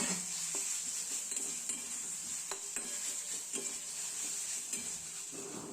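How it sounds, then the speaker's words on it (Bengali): Onion, ginger, garlic and chili spice paste stir-fried in a pan, giving a steady sizzle with scattered scrapes and clinks of a spatula against the pan throughout, close and continuous. "এবার দিয়ে ভালো করে মশলাটা কষাতে হবে"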